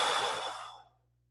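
A single long exhale in a fitness session, a broad breathy rush that starts strong and fades out over about a second, heard alone and close.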